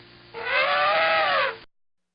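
A young elephant trumpets once, a loud and strained blare that swells for just over a second and then cuts off sharply, heard alone with no voices.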